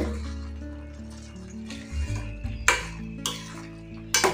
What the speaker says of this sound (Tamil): ஒரு கிளறி விட்டுக்கோங்க. இந்த மாதிரி கிளறி விட்டுக்கிட்டு